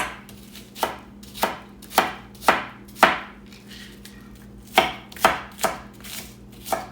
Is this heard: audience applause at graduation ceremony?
no